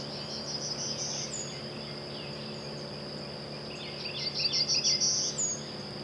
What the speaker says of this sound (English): Happy little warbler.